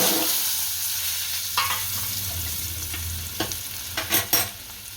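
Potatoes tipped into hot oil seasoned with asafoetida, frying for bhungla bateta (lasaniya batata) with steady sizzle, stirring scrapes and a few sharp clatters of a spoon against the pan near the end.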